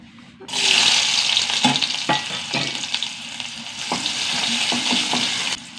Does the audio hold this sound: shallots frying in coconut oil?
yes